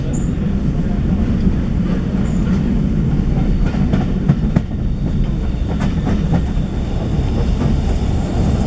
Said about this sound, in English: You can see the steamer really well there.